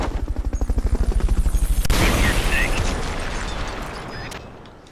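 A C4 charge detonates in Metal Gear Solid Peace Walker. A steady mechanical throb leads into a sudden loud blast, and a long rumbling decay fades out over several seconds.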